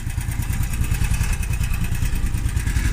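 A Trail Wagon utility vehicle's engine idles roughly up close, a loud, steady low chugging with a faintly uneven pulse and no talk over it.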